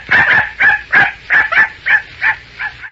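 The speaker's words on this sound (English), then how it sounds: "A little dusty dog." A small dusty dog yips and whimpers in a quick series of about ten short, high, close cries, loud and evenly spaced, with no talking.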